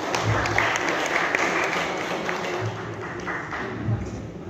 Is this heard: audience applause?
yes